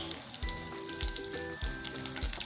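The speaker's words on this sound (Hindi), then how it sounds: "1 मिनट हम इसको अच्छे से फ्राई करेंगे।" Cumin seeds and whole red chillies frying in hot oil, giving a steady crackling sizzle with small pops throughout, heard up close and alone.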